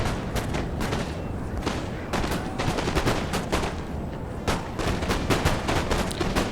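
Musket volleys crackle from battle lines in Napoleon Total War multiplayer on Syrian Ridge, with dense, rapid, overlapping shots in irregular bursts, sustained and moderately loud for several seconds.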